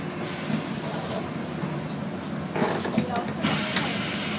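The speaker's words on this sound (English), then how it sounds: "we rode right up front in the front cab of the monorail" Ride up front in the front cab of the Disneyland monorail: a steady rolling rumble and whir of the train runs throughout, with a brighter rise in pitch toward the end and voices talking over it.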